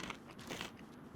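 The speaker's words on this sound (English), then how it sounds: "You don't want the sound of my biting and chewing in your ear?" Someone bites and chews crunchy food close to the microphone, quiet irregular crackling crunches over about a second.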